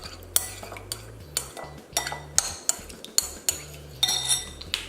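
A spoon scrapes and clinks against a bowl as seasoned ingredients with pepper are mixed together, a close series of sharp, irregular taps and stirring scrapes with no talk.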